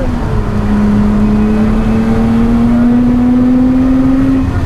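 A race car at Oulton Park pulls out of a corner under a gradual throttle, its engine a loud, close, sustained drone whose pitch rises slowly and steadily across the clip.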